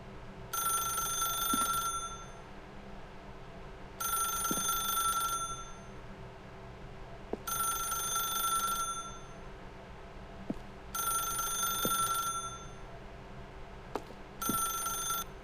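A telephone in the video game The Stanley Parable rings in repeated bursts of electronic trilling, about every three seconds, with quiet low hum and occasional soft clicks between rings.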